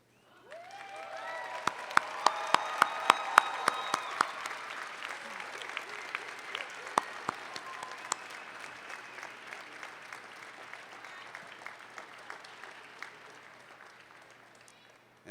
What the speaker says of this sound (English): give all these people a big round of applause